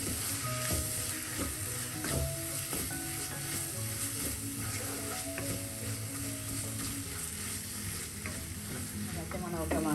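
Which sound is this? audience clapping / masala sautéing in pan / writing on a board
masala sautéing in pan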